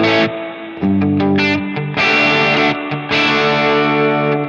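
Distorted electric guitar chords through a Fractal AX8 with a Bassman-style amp and large spring reverb ring out with a splashy, boingy reverb tail, loud and upfront with no other sounds.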